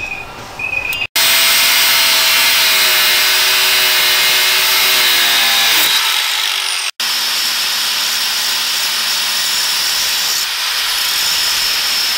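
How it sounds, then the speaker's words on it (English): Power tool cutting down the inner tie rod of a Corvette during an angle kit install, a loud continuous harsh hiss and grinding roar that runs nearly nonstop for about twelve seconds, close and steady. "I'm going to have to trim my inner tie rod"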